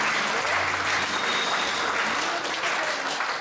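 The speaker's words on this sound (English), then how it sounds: "Give the Lord a hand clap." Sustained applause and hand clapping from a congregation at a Bible college conference, steady and dense throughout, with a few faint voices mixed in.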